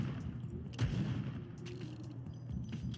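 Scoped revolver gunshots in Fortnite: a few sharp, loud reports set against a busy, rumbling game backdrop, with one strong shot near the start and fainter cracks following.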